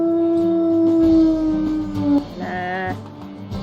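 A single sustained wolf howl in the video game WolfQuest, loud and close, holding a steady pitch before rising slightly and fading, with game ambience beneath.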